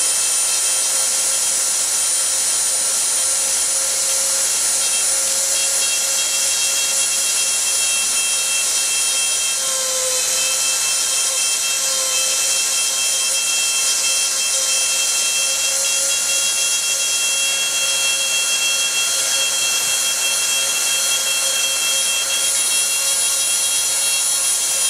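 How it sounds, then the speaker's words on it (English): A Dremel rotary tool with a conical sanding disc whines at a high, steady pitch for a long stretch, loud and continuous with only slight shifts in tone, sanding a boat's seam against the toe rail. "I found a Dremel bit for it which is kind of like a conical shaped sanding disc"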